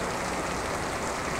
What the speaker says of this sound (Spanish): ahí está cayendo un aguacero exagerado